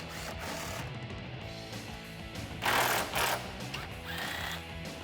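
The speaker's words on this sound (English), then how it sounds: "continuing to use our 10mm socket, we're going to remove the 3 10mm bolts that hold the headlights in" A 10mm socket loosens headlight bolts on a 2004-2008 Ford F150. Close scraping, ratcheting bursts come in uneven spurts over a faint background, with no talking.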